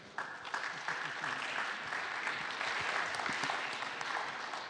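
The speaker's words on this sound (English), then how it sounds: "Let's have a round of applause for Dustin." Audience applause after a business presentation, steady dense clapping from a crowd that holds at an even level throughout, with faint voices underneath.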